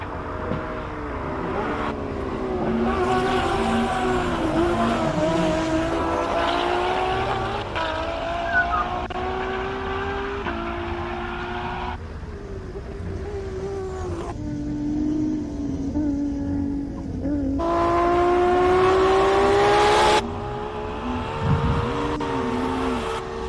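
A race car on a hillclimb run at Simola climbs steadily through gear changes, its engine note rising and dropping with each shift. It roars at a fairly constant moderate distance for over twenty seconds.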